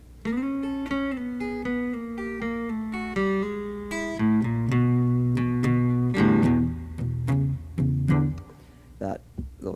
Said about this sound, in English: A real cliche kind of blues thing to do is to use a descending third pattern